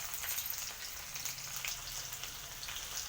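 Onions, green chillies, curry leaves and cumin seeds fry in a pan with a continuous, even sizzle and crackle, fairly close and with no talking.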